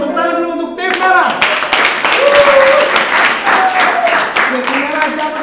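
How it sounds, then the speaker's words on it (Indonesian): A studio audience at an Indonesian independence-day quiz show claps for the red team, loud and close, following a short sung musical phrase, while a host talks over the applause. "Tepuk tangan dulu untuk tim merah."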